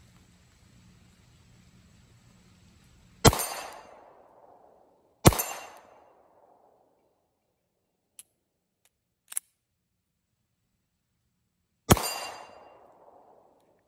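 Three loud, sharp gunshots from a small everyday-carry pistol fired at a 25-yard target, widely spaced with ringing decays, plus a couple of faint clicks between them, otherwise quiet.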